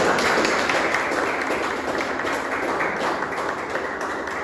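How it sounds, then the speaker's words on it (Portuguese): A church congregation applauds during a family worship service, a dense, steady wash of clapping that stays loud and even for the full stretch, with no distinct voices on top. "Aplauda o Senhor Jesus"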